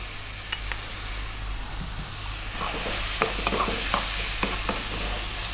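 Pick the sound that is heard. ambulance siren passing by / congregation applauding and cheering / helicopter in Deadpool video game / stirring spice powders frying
stirring spice powders frying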